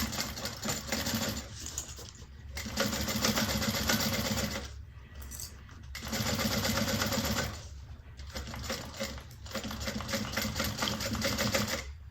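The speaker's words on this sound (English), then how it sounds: "we're going to sew this on at a 1/4 inch seam allowance" A sewing machine stitches a quarter-inch seam in steady runs of rapid mechanical whirring, stopping briefly three times between bursts, fairly close with no talking.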